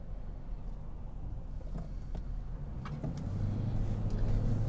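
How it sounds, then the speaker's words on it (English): Steady low road rumble of a car cruising through Silverleaf traffic, with faint passing-vehicle swells and a drone building toward the end; no talk. "you get a sense of what traffic is like cruising through here"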